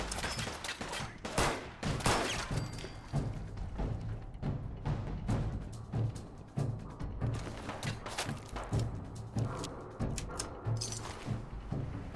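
Rapid gunfire in the video game Fallout 4 at the Corvega Factory, repeated bursts of shots and thuds crackling steadily and loudly throughout with no talk.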